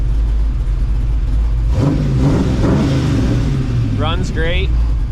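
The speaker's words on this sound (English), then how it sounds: "This thing, I mean, just carbureted engine just starts like that." A carbureted engine swapped into a Pontiac Firebird fires up and revs, a rough mid-pitched rumble swelling after a quiet start, with a voice speaking briefly over it near the end.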